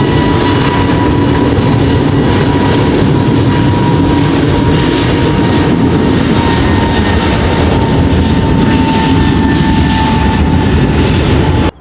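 A steady, loud jet engine roar fills the air as an airliner comes in to land near an airport runway, with a continuous broadband rumble and whine that barely changes and no voices over it.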